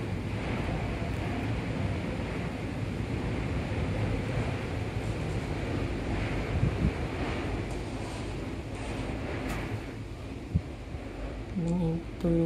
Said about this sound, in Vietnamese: Bạn nghe gió nó hú không?